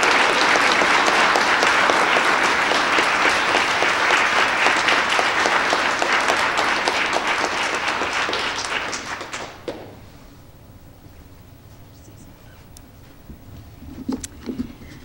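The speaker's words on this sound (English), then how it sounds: "Can we give our scholars one more round of applause?" Audience applause at a student scholars recognition ceremony: a full room claps loudly and steadily for about ten seconds, then it fades out, leaving a quiet hall with a few scattered knocks and faint stirring.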